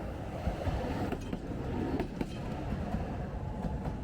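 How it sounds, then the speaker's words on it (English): A video-game train rolling along its tracks, a steady broadband rumble with faint periodic clicks throughout, fairly loud and continuous. "Look how beautiful this train is."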